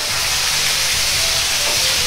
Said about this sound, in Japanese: 醤油大さじ1も鍋肌から回し入れます。